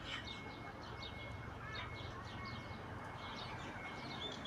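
Water birds calling near a river in Australia, faint repeated chirps and short calls scattered over a constant outdoor background hiss.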